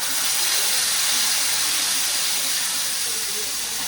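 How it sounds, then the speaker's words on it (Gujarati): Homemade gravy for a restaurant-style paneer sabji hits hot oil seasoned with cumin and asafoetida, giving a loud, steady, bright sizzle that hisses on without a break. "ને આપણે બનાવેલી ગ્રેવી નાખીશું."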